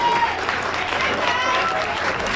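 A comedy club audience claps and cheers in a steady, loud burst of applause that lasts throughout, with a voice speaking over the crowd.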